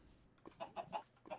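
Chicken clucking in the Minecraft video game, a quiet series of four or five short, evenly spaced clucks following a softer lead-in.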